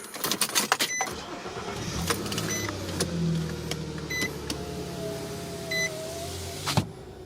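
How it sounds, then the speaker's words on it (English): A 2006 Nissan Frontier cranks and starts after a cylinder 1 misfire repair, with clicks and a short whir, then the engine settling into a steady idle close by, punctuated by a few beeps and a brief motor sound. "Okay, let's start the car."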